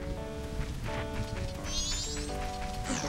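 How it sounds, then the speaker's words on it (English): Rain falling in the video game The Legend of Zelda: Majora's Mask, a soft steady hiss beneath game music, faint and continuous with a brief sharper effect near the end. "Is it raining?"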